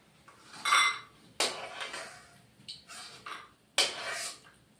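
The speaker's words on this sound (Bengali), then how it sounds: "বড়ি ভাজা হয়ে গেছে এখন আমি নামিয়ে নিচ্ছি" Metal cookware clattering and clinking as fried lentil dumplings (bori) are lifted out of a pan in a home kitchen, several sharp bursts of scraping and clinks spaced across a few seconds, close and fairly loud with no talk.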